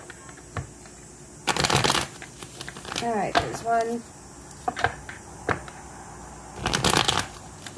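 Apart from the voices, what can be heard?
shuffling tarot cards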